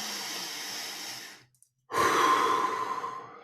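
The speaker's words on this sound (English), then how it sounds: "So just take a deep breath." One long, steady breath drawn in, then a brief silent pause before a forceful, airy exhale close to the microphone.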